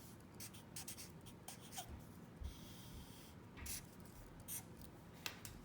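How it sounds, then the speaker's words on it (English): Marker or chalk strokes writing formulas on a classroom board for a rotational-motion lesson, faint scratchy taps and squeaks coming in short irregular bursts over a quiet room, with no talking. "I'm going to write formulas up here."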